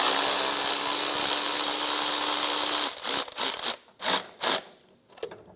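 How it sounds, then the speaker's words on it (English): A 12 mm socket works the tensioner pulley bolt on an Infiniti G35 engine, several short bursts of ratcheting and scraping metal that start and stop in quick succession after a steady hiss of background noise, close and alone. "Loosen the tensioner pulley."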